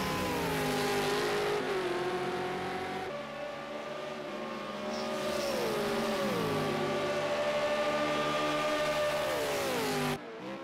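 V8 Supercars race cars roar around the Bathurst 1000 circuit, their engines loud and close, revving and dropping in pitch through gear changes as they pass in a continuous wall of sound.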